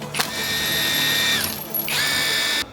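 A ProCraft Industrial IW550A impact wrench spins up in two loud close bursts of whining motor and rattling hammer mechanism, with a short pause between them.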